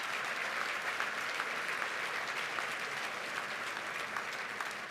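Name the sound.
gala audience applauding the Reverend after grace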